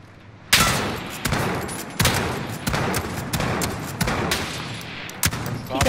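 Rapid bursts of video game gunfire from a container-filled map, loud sharp shots firing in quick repeated volleys across the whole stretch, with occasional heavier reports standing out.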